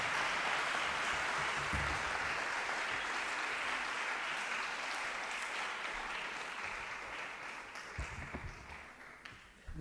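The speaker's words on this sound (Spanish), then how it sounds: "pido un gran aplauso para nuestro primer ponente" An audience gives sustained applause for the first speaker at a climate-action education event, a steady wash of many hands that gradually thins toward the end.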